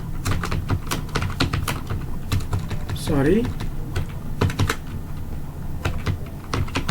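Typing on a computer keyboard while writing in MS Word: a steady run of close, crisp key clicks, with a voice talking over the tapping.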